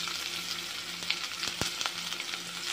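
Chopped onion and curry leaves sauté in a hot pan, giving a steady soft sizzle with occasional faint clicks of stirring, no voices.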